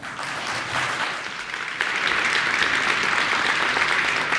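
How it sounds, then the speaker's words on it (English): A conference audience at PyCon applauds two speakers being welcomed to the stage, a dense, steady wash of many hands clapping that swells slightly partway through and continues without talk. "Please give them a warm round of applause."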